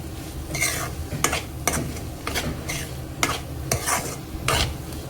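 Dry bombil (Bombay duck) chutney with fresh coriander being stirred in a pan, with repeated scraping strokes and a soft sizzle underneath, steady and close with no talking.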